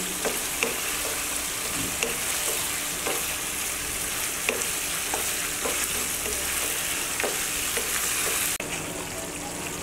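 Chicken kosha being stirred in an open, uncovered pan: a steady close sizzle with repeated scraping strokes of the spoon at an even rhythm, continuing throughout before cutting off sharply near the end.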